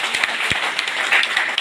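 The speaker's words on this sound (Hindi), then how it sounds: "तो एक बार जोरदार तालियां बजाओ" A live audience claps loudly at an indoor seminar, a dense, sustained burst of many hands applauding together, close and bright throughout.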